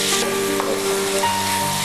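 Tomatoes frying in oil in a pan while being stirred now and then for a chilli chicken roast, a steady close sizzle with faint scraping and tonal hum behind it, no talk.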